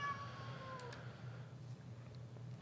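A house cat meows in the background during a tabletop card game session, a brief muffled call at moderate distance over a steady low hum.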